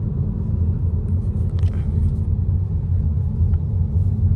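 A truck on the road gives a loud, steady low rumble that holds evenly throughout, with no clear rise or fall as it passes and no talking.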